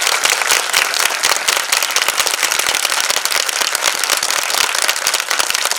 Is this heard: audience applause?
yes